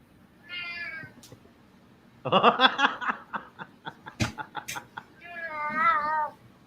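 A pet cat named Tobers meows several times, its drawn-out, wavering cries close and clear, mixed in with a person playfully mimicking meows and talking nearby.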